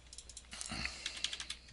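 Quiet typing on a computer keyboard while entering a dimension value in CAD software, a short burst of about a dozen soft key clicks, close but faint, with no talking.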